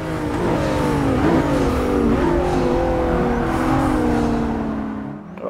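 McLaren 650S coupe engine revving hard while drifting through a turn, with loud continuous roar rising and falling with the throttle, close up and alone, before easing off at the end.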